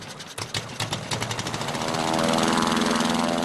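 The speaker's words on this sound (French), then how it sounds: "25 kg de bois et de toile propulsés par un moteur à 4 temps." A four-stroke engine powers a 25 kg wood-and-canvas model Blériot aircraft, giving a steady, loud buzzing drone that climbs and holds at a constant pitch after some early uneven pops, close to the microphone.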